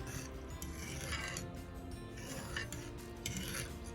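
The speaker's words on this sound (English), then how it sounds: "Gonna give it a stir." A spoon stirs rice and peas in coconut milk in a pot, making quiet, close scraping and rubbing strokes in a steady rhythm with no talk.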